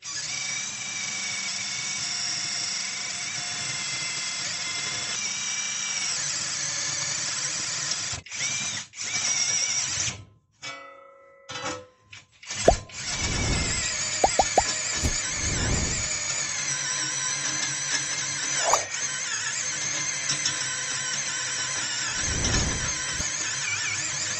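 A compact cordless AliExpress drill driver bores through a metal sheet, its motor whining steadily with a high squeal and then briefly stopping before it runs on again under load, all without talk.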